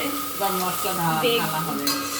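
Fried drumsticks, potato and eggplant are stirred in a pan with mustard-poppy paste, cumin powder and salt, giving steady close scraping over a constant low sizzle.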